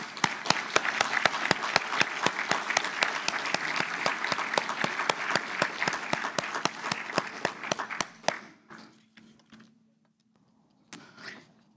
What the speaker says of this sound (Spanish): Le damos un cálido aplauso a la doctora.